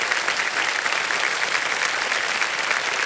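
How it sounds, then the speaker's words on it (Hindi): A studio audience on a television quiz show breaks into steady, dense applause that stays even and loud throughout, with no voices standing out. "तालियां बज जाए इनके लिए।"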